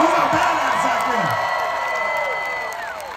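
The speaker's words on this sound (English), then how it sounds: "Give him a fucking big round of applause." A concert crowd at Boston Calling 2023 applauds and cheers, with close, loud whoops and shouts over clapping that slowly fades.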